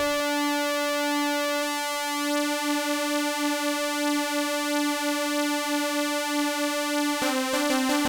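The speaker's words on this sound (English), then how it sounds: "And now I'm going to detune the second oscillator." A sustained buzzy sawtooth synthesizer tone with a slow beating shimmer from two detuned oscillators, holding one note before a brief change of pitch near the end.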